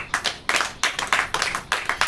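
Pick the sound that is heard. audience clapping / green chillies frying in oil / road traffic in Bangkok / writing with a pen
audience clapping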